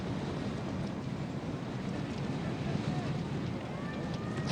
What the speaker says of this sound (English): At least you're getting pushed effectively by that strong wind up this particular climb